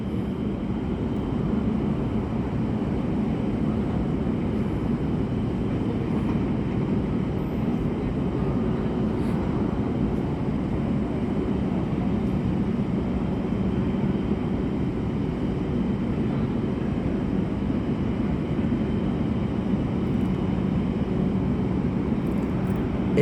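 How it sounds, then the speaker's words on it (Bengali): Fighter jet aircraft overhead produce a continuous, heavy low roar that holds steady for over twenty seconds, loud and unbroken, with no voices over it. "যুদ্ধ বিমান যখন আকাশ ওড়ে, একসাথে একাধিক বিমান আকাশ ওড়ে এবং হচ্ছে বিকট শব্দ থাকে যুদ্ধ বিমানগুলোর।"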